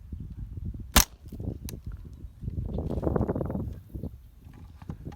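A single sharp crack from a .22 LR rifle fired with its muzzle pushed inside a loaf of bread, one short, fairly loud report near the start, followed by quieter rustling and handling noise outdoors.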